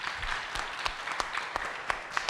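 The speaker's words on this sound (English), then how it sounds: "Let's give a round of applause to everyone that has helped just putting everything together" An audience at a talk applauds the event's volunteers. It is a short burst of scattered, moderately loud clapping with some sharper individual claps.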